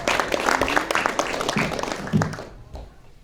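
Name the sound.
audience applause for a comedian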